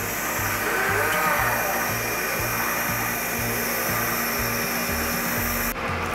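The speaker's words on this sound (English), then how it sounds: "Unfolding our lower boom, we are able to spin counterclockwise. and back clockwise." Terex XT Pro 60 forestry bucket truck swinging its lower boom, giving a continuous loud hydraulic whine with a regular low pulsing beat throughout, steady and close.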